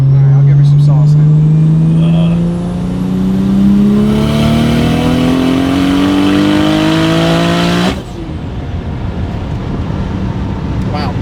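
An 800HP Nissan Skyline R34 accelerates hard, its engine note climbing steadily through a long pull before cutting off sharply near the end, loud and close throughout with talk over the top.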